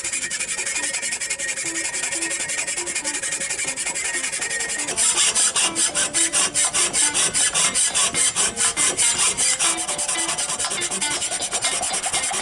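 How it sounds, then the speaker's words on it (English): A metal sword blade made from steel stock with a wooden handle is sharpened with steady rasping, rubbing strokes, up close and loud, growing harsher and more rhythmic partway through with rapid repeated scrapes. "Now all we gotta do is sharpen it a little bit."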